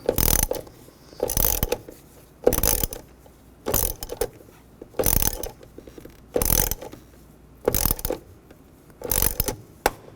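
A ratchet wrench tightening engine mount bolts on a 2009–2017 Chevy Traverse clicks in quick bursts, about eight evenly spaced runs of close metallic ratcheting separated by brief pauses, with no talking.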